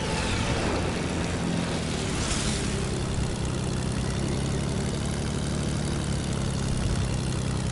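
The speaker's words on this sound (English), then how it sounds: "Can I just fly the new airplane?" A propeller airplane drones steadily in a video game, a loud, continuous engine hum with no break and no talking over it.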